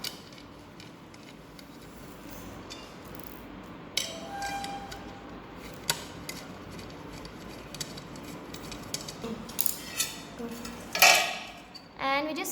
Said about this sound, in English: So we take out the screws from the tawa.